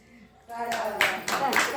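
A small group at a women's haldi-kumkum gathering bursts into brief applause, hand claps rising in a few uneven surges after a quiet start, with voices mixed in under the clapping.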